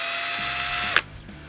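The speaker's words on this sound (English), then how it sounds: "Okay, so I've got my drill ready" A cordless power drill runs in reverse with a steady high-pitched whine, then stops abruptly with a short click and a brief spin-down. It is close and fairly loud.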